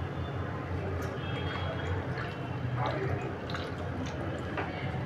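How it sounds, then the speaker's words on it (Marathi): Water splashes and trickles steadily into a bowl over salted strawberries, a continuous liquid pour with faint drips, while someone talks quietly. "पाणी घालून घेऊ."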